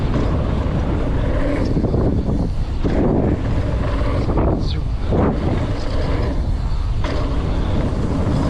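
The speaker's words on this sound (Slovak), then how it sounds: "Trošku nám tu dujú vetry." Wind buffets a microphone while mountain biking at Zloty Gron bikepark, loud, continuous roaring gusts with whooshing swells throughout.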